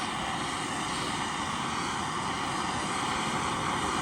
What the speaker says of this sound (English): I'm not going to worry about blowing through it with a MAP gas torch